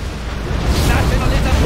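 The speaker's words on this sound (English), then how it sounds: "Our Scudstorm has been launched" A Scud Storm superweapon strike in C&C Generals Zero Hour, a loud, dense explosive roar that swells and rumbles through the brief span.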